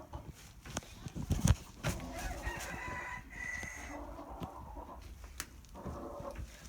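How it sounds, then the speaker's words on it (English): A backyard rooster crows in drawn-out calls through a noisy mix of handling sounds and thumps, with a voice talking nearby. "if you guys heard that, that was just my rooster"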